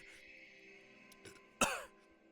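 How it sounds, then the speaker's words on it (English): A person clears their throat and then coughs in one sharp, loud burst after swallowing water the wrong way, with quieter throat noises before it, close to the listener in an indoor setting. "Oh no, I'm gonna have a coughing fit."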